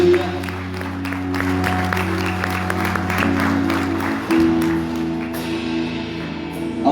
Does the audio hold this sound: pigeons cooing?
no